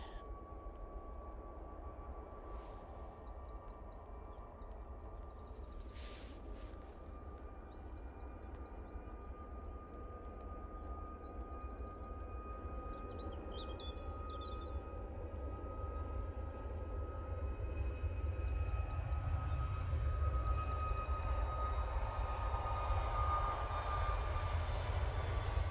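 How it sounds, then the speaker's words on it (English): A Ryanair Boeing 737 MAX 8 jet takes off at Manchester Airport, its engine roar building slowly from a distant hum to a loud, sustained rumble, with faint bird chirps over the top. "Ryanair off to Seville now, using the 737 MAX 8."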